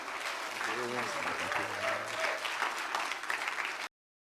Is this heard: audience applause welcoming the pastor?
yes